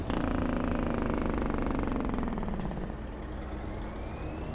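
A truck's Jake brake engine braking, a loud rumbling blat with a falling pitch that holds for several seconds and then eases into a lower steady engine drone.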